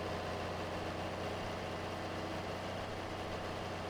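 A John Deere 4020 tractor engine idles in Farming Simulator 22 with a steady, continuous low diesel drone that stays even and unbroken throughout, and no voices are heard.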